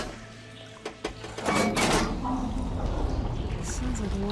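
Valve machinery in Horizon Forbidden West switching a water flow: a few mechanical clunks, then a loud steady rush of pouring water carrying on under talk.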